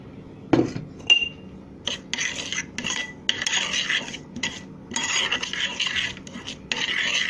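Oregano and roughly 50 ml of olive oil being stirred in a bowl with a spoon, making several scraping, rasping strokes with short pauses between them, close and fairly quiet.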